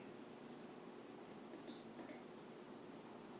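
Several quick, crisp computer mouse clicks, one single and then a tight pair and another, sound close against a quiet room hum.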